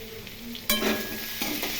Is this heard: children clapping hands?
no